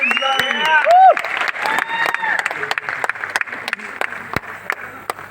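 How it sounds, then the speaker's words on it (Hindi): Clapping for a speaker at an event in Delhi, sharp scattered claps and crowd noise mixed with music and voices talking over it, fairly loud and close. "जोरदार तालियां उस अंकुश मीना जी के लिए"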